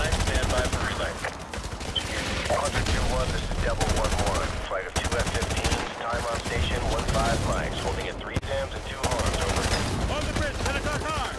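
Heavy gunfire in Modern Warfare 2 Remastered, dense bursts of automatic rifle and machine gun fire filling the scene almost continuously, loud and close, with brief gaps and a voice speaking over the shooting.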